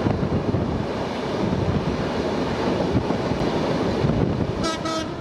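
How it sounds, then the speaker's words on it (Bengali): A passenger train rumbles past on the Padma rail link during a trial run. The roar is loud and steady and mixed with wind buffeting, and a brief horn sounds near the end. "পদ্মা রেল লিঙ্কের দ্বিতীয় ফেজের কাজ শেষে আনুষ্ঠানিকভাবে যাত্রা শুরুর আগে যাত্রীবাহী ট্রেনের ট্রায়াল রান হয় গত রোববার"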